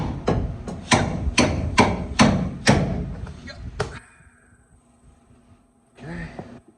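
A heavy hammer hits the rusty parts of a dually truck in a quick series of about seven loud metallic blows. Silence follows, then a short burst of talk near the end.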